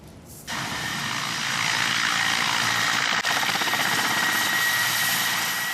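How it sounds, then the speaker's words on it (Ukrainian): Mi-8 transport helicopter taking off on a combat sortie, its turbine whine and rotor roar starting abruptly and building to a loud, steady, close drone. "Мі 8 рушає на бойовий виліт працювати некерованими авіаційними ракетами по об'єктах противника."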